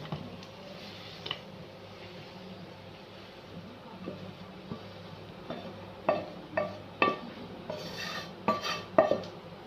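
Spoon scrapes and clinks against a plate and pot as potato egg curry (aloo anday) is served, a faint steady background with a run of sharper knocks toward the end.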